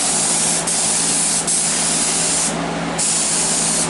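A spray gun mists PVA mould release onto a gel coat mould in a loud, continuous hiss, cut by a few short pauses as the trigger is released and pulled again.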